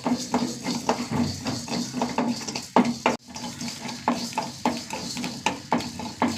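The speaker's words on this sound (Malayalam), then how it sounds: "ഇപ്പോൾ രണ്ട് സാധനം വറുത്തെടുക്കാണ്ട്, 1 ടീസ്പൂൺ മുഴുവൻ മല്ലി, 1 ടീസ്പൂൺ അരി." Whole coriander seeds and washed parboiled rice dry roasting in a pan: continuous gritty rattling and scraping as the grains are stirred, with soft rhythmic clinks of the spoon against the pan.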